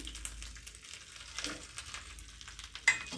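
Cashews and a little chopped ginger fry in a pan for kothamalli pongal, giving a soft continuous sizzle with faint stirring and one brief sharp clink near the end.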